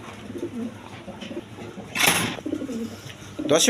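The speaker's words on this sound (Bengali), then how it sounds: "দা এখানে এক পেয়ার মক্ষী কবুতর আছে দেখেন" Pigeons at a pigeon seller's coo nearby in low, throaty bursts, broken by a loud rustling flurry partway through.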